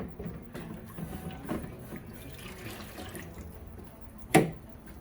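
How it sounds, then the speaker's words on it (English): Tap water runs into a homebrewing jug on brew day, a soft continuous trickle close by with a brief louder splash near the end; no one speaks. "Let's get a little bit more water in there, Renee."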